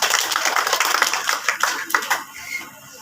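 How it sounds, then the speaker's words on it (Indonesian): Brief applause from an audience at a junior high school quiz competition, a dense patter of clapping hands that fades out after a few seconds. "Beri aplaus yang meriah."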